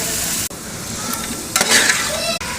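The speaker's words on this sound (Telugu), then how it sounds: "ఇప్పుడు చికెన్ వేసుకుంటున్నాడు" Chicken tipped into a large pot of fried onions sizzles loudly and continuously, with a brief scrape of stirring midway and two short dropouts in the hiss.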